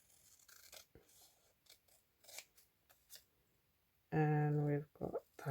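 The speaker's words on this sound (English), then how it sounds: "just going to trim these up" Scissors snip paper scrap pads in a few quick close cuts among soft paper rustles and handling sounds, with one sustained tonal burst near the end.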